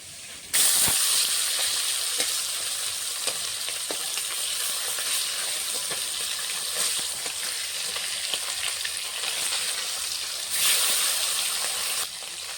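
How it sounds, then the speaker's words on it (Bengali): Small hilsa fish frying in a pan, with continuous, loud, close sizzling and hissing oil, occasional pops and clicks, and a brief surge in the spattering near the end. "মাছটা ভাজা হয়ে গেছে, এখন আমি নামিয়ে নেব। বেশি কড়া করে ভাজবো না মাছ, ইলিশ মাছ হালকা ভাজবো।"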